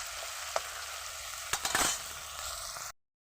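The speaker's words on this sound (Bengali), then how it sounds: "এবার চিংড়িটাকে তেলের ভিতরে ঢেলে দেব" Shrimp fry in hot oil for a cauliflower and mixed vegetable dish, a constant close sizzle broken by a few clinks of a utensil, swelling briefly before cutting off abruptly into silence.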